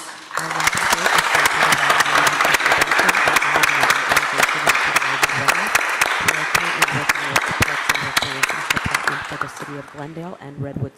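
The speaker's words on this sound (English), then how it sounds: "give you a big round of applause and recognition" An audience at a public works department meeting gives sustained applause for standing honorees, with dense, even clapping that holds steady for about ten seconds before thinning out at the end.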